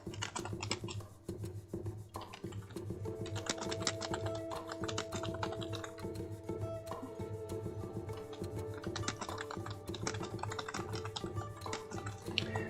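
Typing on a computer keyboard, a continuous rapid patter of key clicks, close and fairly quiet, with no talking.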